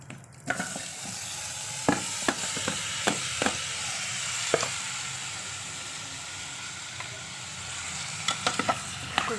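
Chicken frying in oil in a pan on a home stove gives a steady sizzling hiss throughout, broken by scattered sharp pops and crackles that are close and fairly loud, with no talking.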